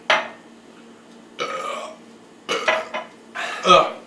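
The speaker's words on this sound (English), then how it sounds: "we gotta go back to episode 2 for the real belches" Several loud belches after chugging brown ale, four separate bursts spaced about a second apart, close and clear against quiet, with a faint clink of glassware.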